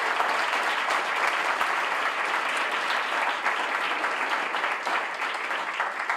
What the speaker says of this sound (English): So all of the adults, a round of applause for the students who have made it here.